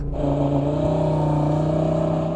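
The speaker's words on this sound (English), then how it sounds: "Put the gearbox into drive, make sure it's in sport, left foot on the brake, floor the throttle" Mercedes-AMG A45 S launching hard from a standstill under launch control, engine note rising steadily and loudly as it pulls through the gears, close and continuous with no talking.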